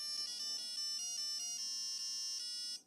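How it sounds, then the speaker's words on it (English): The Game Wizard LCD handheld plays Star Wars Princess Leia's Rescue, with a steady run of shrill electronic beeps and tones that step up and down in pitch. No voices are heard. "We have the usual irritating LCD game sounds to accompany our romp across the screen."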